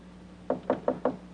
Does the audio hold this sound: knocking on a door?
yes